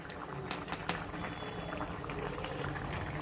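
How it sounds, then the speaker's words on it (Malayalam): Mushroom masala gravy simmers in a pan with a steady, soft bubbling hiss, close and fairly quiet, with a couple of faint utensil clinks and no talking. "അപ്പോൾ നമ്മുടെ ഇത് നന്നായിട്ട് തിളച്ചുകൊണ്ടിരിക്കുകയാണ്"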